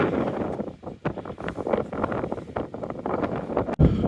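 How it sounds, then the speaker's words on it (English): Gusty wind roars and buffets the microphone on an evening countryside walk through the valley near Todmorden. The rumbling is loud and continuous, with no speech. "there was a little dip in the wind, but yeah, it's back again"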